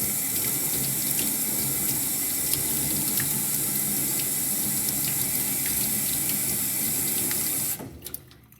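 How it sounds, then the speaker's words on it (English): Warm water runs steadily from a tap at close range while a paintbrush is cleaned, a loud continuous rush that cuts off abruptly near the end. "I'm going to turn on the water just a little tiny bit on warm"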